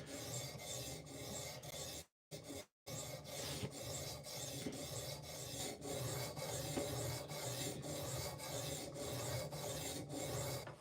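A knife blade rasps steadily across an 1100 grit PDT sharpening stone in even, repeated strokes, quiet and close, with only a brief break near the start.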